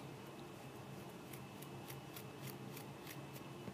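Scissors snip through a synthetic Marley braid, a series of soft, crisp clicks spaced evenly in a quiet room, close and faint.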